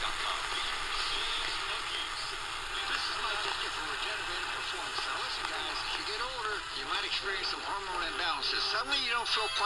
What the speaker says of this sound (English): here we're actually hearing stations embedded in that static